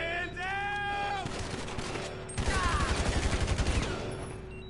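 Gunfire in GTA Online, a rapid loud fusillade of shots bursting out after a short pause, dense and close, over game background noise.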